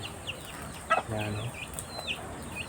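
A mother hen and her chicks being taught to eat vegetables make soft, scattered clucks and chirps close by, with a brief spoken word in the middle.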